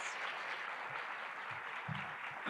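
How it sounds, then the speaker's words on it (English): Steady applause from an audience at a local author panel event, a dense even patter of many hands clapping with no voices over it. "So please give a warm round of applause to our author panelists."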